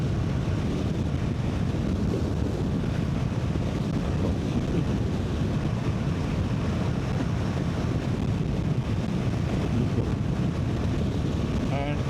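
Steady, heavy wind roar buffeting the microphone while riding a Royal Enfield Himalayan motorcycle on a long touring day, continuous and loud throughout with no break.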